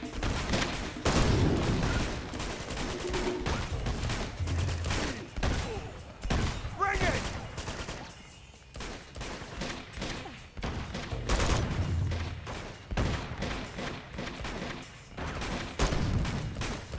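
Rapid gunfire from a shootout in Uncharted 2: Among Thieves crackles in dense, repeated bursts with thuds and booms, loud and continuous, while a voice talks over it now and then.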